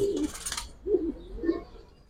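A male Giribaz pigeon coos in a few soft, throaty calls spaced about half a second apart, close by, with a brief burst of bright background noise at the start and no talking.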